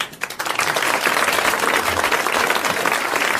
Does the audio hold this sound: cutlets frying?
no